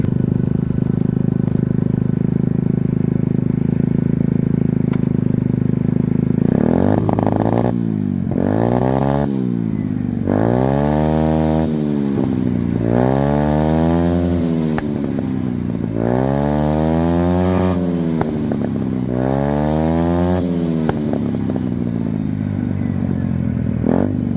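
A moped scooter engine with a tuned carburetor idles loudly, then revs hard in six or seven rising and falling bursts, each blip climbing and dropping back, close and raw with backfire crackle.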